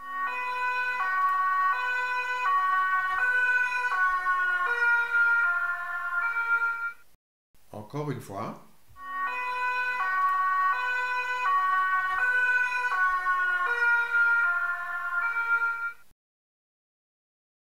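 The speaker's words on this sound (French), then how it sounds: "Voici ce que nous entendons lorsqu'une ambulance passe." An ambulance siren passing by with a Doppler shift, a steady loud two-tone wail cycling for several seconds, a short break with a brief spoken phrase, then the same wail again before stopping abruptly.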